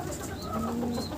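A racing pigeon coos softly on its return to the loft, a single low, steady murmur heard up close over faint background noise.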